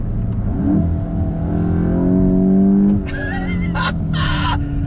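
A 2022 Volkswagen GTI hot hatch engine revs hard under full throttle, its note climbing loud and close for about three seconds before easing off. A few brief higher chirps follow, with no talking.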